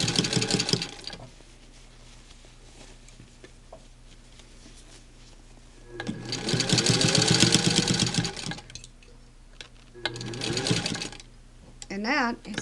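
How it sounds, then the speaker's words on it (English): A sewing machine stitches over pins while a cuff border is sewn. Short bursts of rapid mechanical whirring, close and clear, are separated by quiet pauses, and someone talks between the runs. "Now this machine doesn't mind all the time going over pins"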